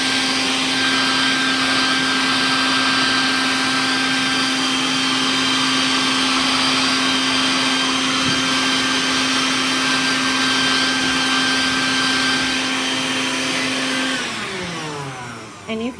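A pet blower roars steadily while drying an English angora rabbit's fur, a loud continuous whine and rush of air that holds constant before winding down at the end.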